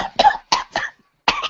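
A man has a coughing fit after smoking. It is a rapid run of four or five harsh, close coughs with short gaps between them.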